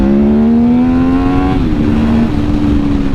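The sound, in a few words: Honda RC30 replica motorcycle engine revving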